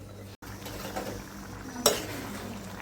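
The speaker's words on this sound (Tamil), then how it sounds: "மூடி போட்டு மூடி வச்சுக்கலாம்." A lid is set onto a cooking pot of prawn curry, one clear metallic clink standing out against a soft, low kitchen background.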